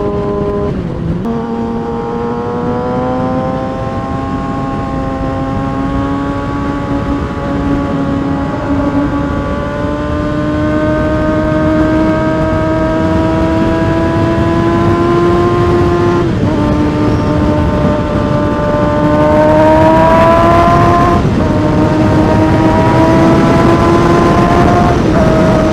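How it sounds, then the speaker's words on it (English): Kawasaki ZX6-R 636 motorcycle with an M4 exhaust at speed, a loud steady high-revving whine that climbs slowly in pitch, with brief dips at gear changes and wind noise, no speech. "So hopefully you guys can actually hear me over the exhaust."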